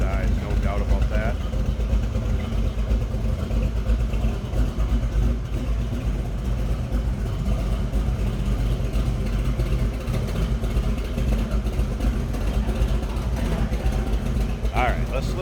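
A 1955 Chevrolet street rod's warmed-up big block engine idles through side dump exhaust, a steady deep rumble holding close and loud for the whole stretch, with someone talking over it.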